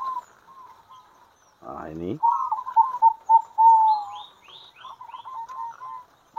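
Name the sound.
zebra doves (perkutut) cooing in a breeding cage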